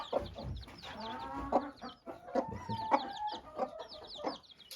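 Hens in a backyard coop cluck and murmur in short, repeated bursts, with occasional higher calls, fairly near and moderately soft, with no voices.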